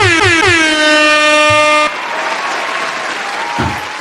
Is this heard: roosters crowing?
no